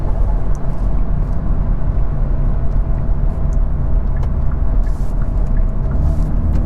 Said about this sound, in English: I just want to make burbles at this point.